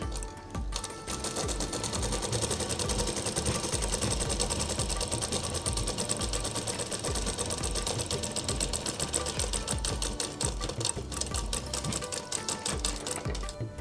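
A sewing machine runs steadily and loudly, double stitching the seam of a Patiala kurti with a dense, fast mechanical chatter that holds for the whole stretch after a brief start.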